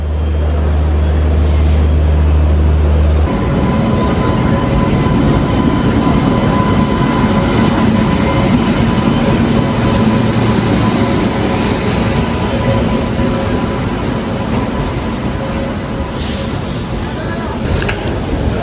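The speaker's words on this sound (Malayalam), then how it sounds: "കോർബ തിരുവനന്തപുരം നോർത്ത് എക്സ്പ്രസ് ആണിത്." Korba–Thiruvananthapuram North Express train rolling past on Indian rail, a steady loud rumble of wheels and carriages sustained throughout, with a brief low engine tone at the start.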